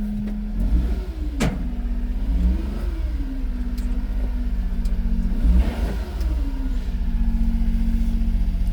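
A Subaru dump truck raises its bed through a PTO as the steady engine note rises and dips several times, loud and close, with no talking.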